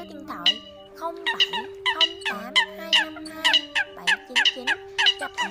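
A recorded Eurasian coot call plays as a rapid series of short, loud, nasal honking notes in bursts over several seconds, with a faint steady hum underneath.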